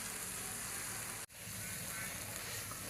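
Red chili, coriander powder and chicken powder roast in a pan for egg curry. The sizzle is a steady, even hiss that breaks off for a moment midway and then resumes.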